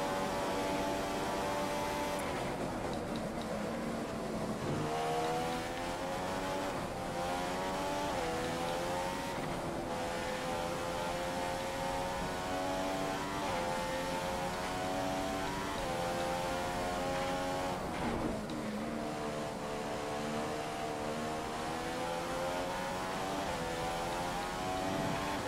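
An F1 race car engine from the F1 2015 video game screams continuously through a qualifying flying lap at the Spanish Grand Prix, its pitch sweeping up through gears and dropping at braking zones in repeated cycles, loud and unbroken.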